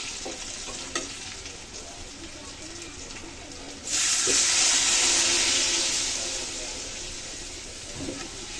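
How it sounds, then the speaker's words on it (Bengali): Water poured into a pan of frying chili powder and spices for a fish curry with raw banana and potato: soft stirring and crackle, then a sudden loud hissing sizzle that slowly settles. "এখন আমি জল দিয়ে দিচ্ছি।"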